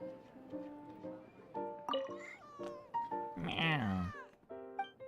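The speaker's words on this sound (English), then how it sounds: "Meow." A cartoon cat gives a single drawn-out meow in the Genius Invocation TCG card game in Genshin Impact. It rises over bright, tinkling game music and menu chimes.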